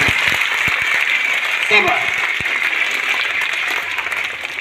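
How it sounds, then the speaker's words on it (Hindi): An audience at a certificate distribution ceremony claps loudly for their coaches, a dense continuous patter with a brief spoken word cutting through midway. "जोर से ताली बजाओगे"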